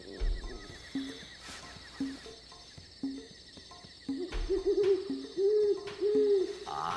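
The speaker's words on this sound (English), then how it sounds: "but I know who made that noise. Duck. And uh, a duck. great horned owl." Great horned owl hooting at night in a series of low, repeated hoots with a steady rhythm, moderately close, joined by other calls and some whinny-like sounds, with no voices.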